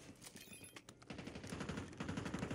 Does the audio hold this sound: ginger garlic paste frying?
no